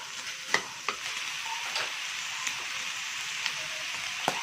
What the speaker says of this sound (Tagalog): Sigigisa natin yung bawang at sibuyas.